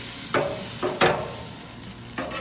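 Barbecue ribs with Asian sweet chili glaze sizzle loudly on a char grill, a continuous hiss broken by three or four sharp flare-ups of louder crackling as the meat shifts.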